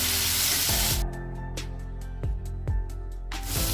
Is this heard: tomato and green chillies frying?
yes